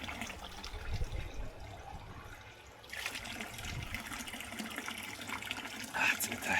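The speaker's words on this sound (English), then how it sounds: "So it's a perfect opportunity to pull over and fill up our water bottles." Water from a spring water fountain pours and splashes into bottles being filled, a steady rushing stream that shifts in tone partway through as the flow changes, with faint voices nearby.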